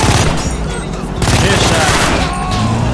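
Rapid gunfire from a GTA 5 firefight crackles loudly through the whole stretch, bursts overlapping with game noise and voices talking over it.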